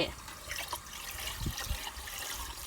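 Water mixed with fertilizer is poured over chili seedlings in a soft, continuous splash and trickle lasting a few seconds, close by and fairly quiet.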